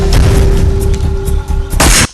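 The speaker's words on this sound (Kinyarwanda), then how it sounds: "bumva amasasu avugiye ari mu majyepfo" Gunfire bursts out loud and close, a heavy booming roar of shots that ends in one sharp, intense blast just before cutting off.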